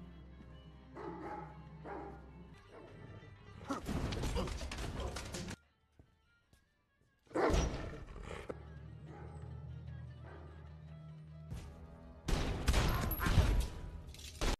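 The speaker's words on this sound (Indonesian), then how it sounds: "terjadi baku tembak di sana" A gunfire exchange in an action film, with long bursts of heavy, loud shooting that break off into near silence before starting again, over an underlying soundtrack.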